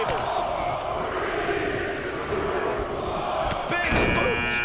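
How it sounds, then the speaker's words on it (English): Arena crowd noise from the wrestling video game WWE 2K23 fills a Royal Rumble match with a constant loud roar and swells, while commentary talk runs over it and impact sounds hit near the end. "Oh man, just listen to the crowd."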